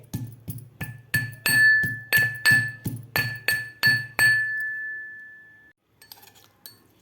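Garlic and green chilli pounded coarsely in a metal mortar (khalbatta) for moong dal varan: about fourteen steady, evenly spaced thuds with a bright metallic ring, then the pounding stops and a faint rustle follows, with no talk.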